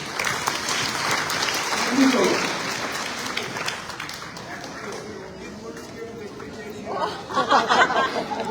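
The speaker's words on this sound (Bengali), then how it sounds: "আমরা আপনাদের সকলের জন্য একটা হাততালি দিতে চাই" A theatre audience applauds at the close of a house-full show, a broad wash of clapping with chatter mixed in, swelling briefly and rising again near the end.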